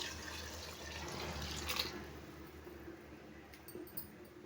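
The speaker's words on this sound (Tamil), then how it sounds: "நம்ம மட்டன் வேக வச்ச தண்ணி இருக்கு இல்லைங்களா, அந்த தண்ணியை வந்து நம்ம சேர்த்து விட்டுக்கலாம்" Mutton cooking water is poured into a pot of Chettinad mutton biryani, a soft, steady splashing trickle with a few faint drips near the end.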